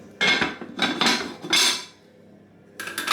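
A lid is set and shuffled onto a metal cooking pot of egusi soup with palm oil and water, giving several bright metallic clanks and rattles in short bursts, close by with no talk.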